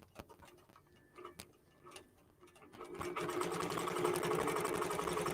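A quilting machine stitches a quilt, starting with a few scattered ticks and clicks before settling into a steady, rapid mechanical stitching whir that runs loud and close to the end.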